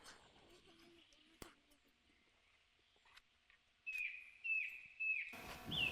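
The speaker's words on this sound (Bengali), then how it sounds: "পাখির ডাক শুনতে পাচ্ছেন?" Birds call in a quiet forest with a few clear rising chirps and whistles at moderate distance, spaced out, while a person speaks softly and footsteps rustle nearby.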